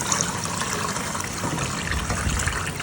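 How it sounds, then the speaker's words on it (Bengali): Rice being rinsed in water for biryani, a steady wet trickling and sloshing that runs close and fairly loud for the whole stretch, with no talking over it. "তারপরে তো হচ্ছে চালটাকে ধুয়ে নিব"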